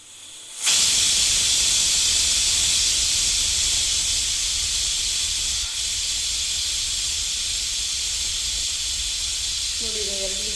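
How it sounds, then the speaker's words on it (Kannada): A pressure cooker cooking palak rice vents steam, bursting into a loud, steady, close hiss that holds almost unbroken for about ten seconds, with a faint tone entering near the end. "ನೋಡಿ ಈಗ 2 ವಿಸಿಲ್ ಆಯಿತು. ಈಗ ಕುಕ್ಕರ್ನ ಆಫ್ ಮಾಡೋಣ."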